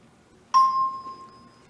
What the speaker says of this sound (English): turn away from the screen until you hear the chime